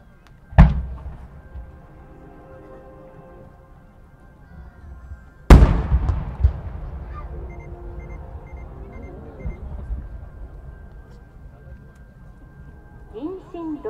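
Silver kamuro chrysanthemum firework shells bursting at a night display in Tsuruga, two sharp loud booms a few seconds apart, each trailing off into crackling and a long rumbling decay, with crowd murmur underneath.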